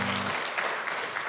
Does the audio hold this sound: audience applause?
yes